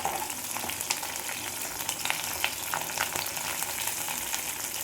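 Curry leaves crackle and sizzle in hot oil in a pan for a country chicken fry, a dense, steady frying hiss with scattered sharp pops and spits throughout, close and fairly loud, with no talking.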